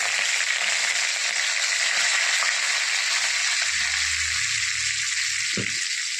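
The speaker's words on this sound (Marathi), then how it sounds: "एक अर्धा चम्मच मोहरी, अर्धा चम्मच जिरे, लसूण आणि कढीपत्ता" Mustard seeds, cumin, garlic and curry leaves sizzle steadily in hot oil, a loud continuous frying hiss with a brief low clatter near the end.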